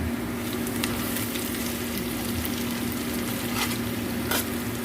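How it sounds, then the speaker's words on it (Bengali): Onions and green chili paste sizzle steadily in a pan while being stirred, a close, even crackle of frying with occasional sharper scrapes and no voices. "in the last 5 to 6 minutes she is stirring this onions."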